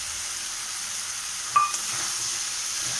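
Oil sizzling steadily in a pan on the stove before potato, papaya and long beans are added, a continuous bright hiss with a brief clink of a utensil partway through.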